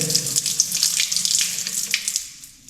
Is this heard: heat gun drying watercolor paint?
no